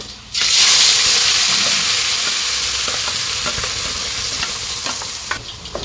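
Ground masala for fish curry being stirred and fried in a pan, with a loud, steady sizzle and hiss throughout and scraping stir strokes breaking through, no talking.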